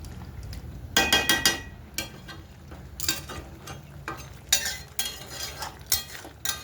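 Chicken kosha being sautéed and stirred in a pan: repeated bursts of scraping and clattering from a spatula against the metal, set over a low, steady background sizzle.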